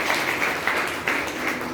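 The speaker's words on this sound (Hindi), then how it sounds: "वेरी गुड, ताली हो जाए।" Audience applause fills the room in a steady, moderately loud burst of many hands clapping, with slight swells and no talk.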